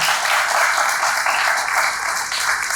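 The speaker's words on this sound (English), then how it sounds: "So a huge round of applause for Akriti." A dense, even wash of applause from an audience at a literary gathering, sustained at steady volume throughout with no voices standing out.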